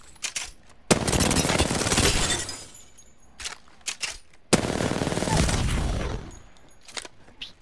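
R-301 rifle in a video game firing two long sustained bursts of rapid automatic fire, separated by short pauses and scattered single shots, loud and close.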